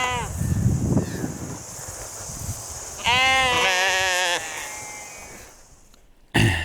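Sheep in New Zealand bleat nearby, with one long wavering call in the middle, under wind noise and faint background sounds.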